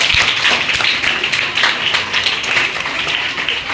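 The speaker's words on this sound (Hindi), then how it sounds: "ताली बजा के।" Children at a summer camp clap together to thank a guest, a close, uneven patter of individual hand claps with sharp separate hits, loud and fairly sustained.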